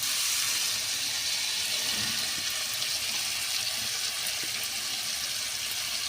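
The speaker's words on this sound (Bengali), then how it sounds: "এবার আমি এই মটরশুঁটির পেস্টটা তেলের মধ্যে দিয়ে দিচ্ছি।" Pea paste goes into hot oil with a cumin tempering, giving a steady, close hiss and sizzle that holds evenly throughout with no talking.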